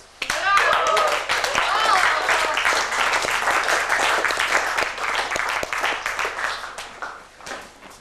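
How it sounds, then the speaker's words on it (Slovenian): Theatre audience breaking into loud, dense applause that swells quickly and keeps going for several seconds before tapering off, with a few scattered voices mixed in. "Ne, tukaj še predviden aplavz."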